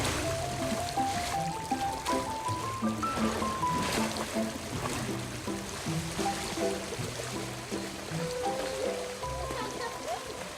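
Water babbles and trickles steadily through a reshaped, natural-looking garden stream, while a soft melody plays over it.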